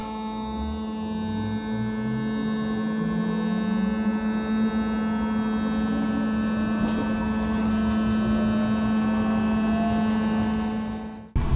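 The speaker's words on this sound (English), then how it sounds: "335 had a nice loud whine from the chopper" A loud, steady electric whine with multiple sustained tones from the chopper of a legacy BART train car rides over the train's rumbling drone, holding constant before cutting off at the end.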